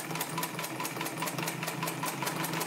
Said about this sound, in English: Machine sews very, very nice, very smoothly.